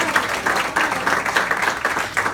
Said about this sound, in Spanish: Yo no sé si usted puede dar un aplauso al Señor en este día